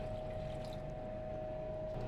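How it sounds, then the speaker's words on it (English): Distilled water poured onto solids in a stock pot during platinum refining, a steady, continuous pouring wash with a constant whine of equipment in the background. "I'm going to add a little bit of distilled water"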